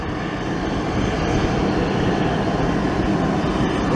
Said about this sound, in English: As our London 777's taking off.